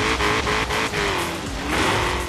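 A car in the Forza Horizon 3 racing game brakes hard and slides, its engine roaring steadily while a tire squeal rises and wavers across a couple of seconds, loud and close, with no talking.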